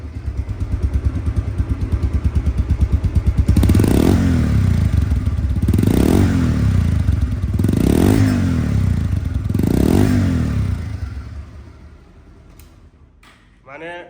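A used 2023 Pulsar double-disc motorcycle idles close by, revved four times in even bursts, then settles and fades; a voice speaks over the engine.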